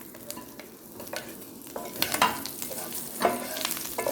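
Capsicum frying in about a tablespoon and a half of oil, a steady close sizzle with spoon scrapes and stirring clatter rising at intervals, no speech.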